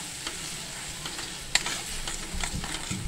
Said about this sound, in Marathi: आणि हा आता आपल्याला चांगला असा परतून छानपैकी परतून घ्यायचा आहे मसाला.